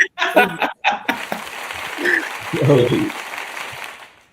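Applause breaks out from an audience after music is shared, a dense wash of clapping that swells and holds for several seconds, with brief voices and laughter mixed in near the start.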